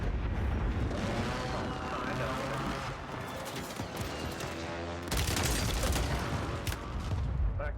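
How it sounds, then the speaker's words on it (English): Heavy airstrike explosions rumble through a military shooter video game, a continuous barrage of loud booming blasts with a fresh surge partway through, and voices talking over it. "Friendly airstrike in the AO."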